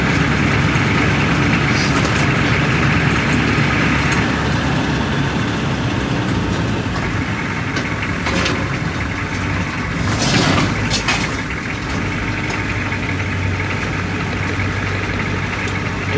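A 1982 Chevrolet K5 Blazer diesel idles close by after a drive, a loud, steady low rumble with a clattering diesel knock, running evenly throughout with a brief rise in noise near the middle.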